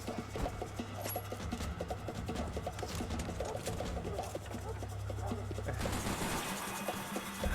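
Rapid bursts of gunfire in Max Payne 3, a dense rattling stream of shots at moderate level that continues steadily with busy game sounds behind it.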